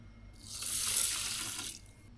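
Water runs from a tap or bottle into a cooking pot at a dam campsite, a short hissing pour that swells to a peak and then tapers off, heard alone.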